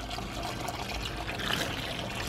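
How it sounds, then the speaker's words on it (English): Garden hose water running into a swimming pool, a steady broadband splash and trickle that stays even and continuous throughout. "The hose is putting out more water now"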